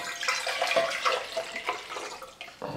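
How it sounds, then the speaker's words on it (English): Water is poured from one container into another while filtering water through homemade activated carbon, a steady splashing, gurgling stream heard up close with no talking. "I'm going to pour that out"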